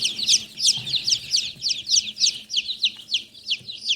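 Frizzle satin Silkie chicken clucking in a quick, rhythmic series of bright, close calls, with a faint low background hum.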